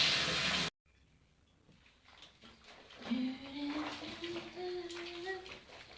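Clothes being hand washed in a basin of water with Downy fabric softener: a loud burst of sloshing, then quieter swishing and splashing while a voice talks over it.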